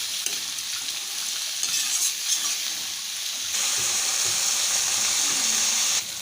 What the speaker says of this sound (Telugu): ఇప్పుడు మనం చిక్కుడుకాయలు వేసేసుకుందాం. కలుపుకుందాం.